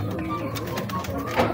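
Racing pigeons coo softly in a short burst of low, throaty calls at close range, with a voice speaking over them.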